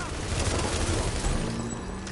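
Bursts of L85 rifle fire in The Division's Dark Zone, a dense, rolling crackle of gunshots that holds loud and continuous for about two seconds.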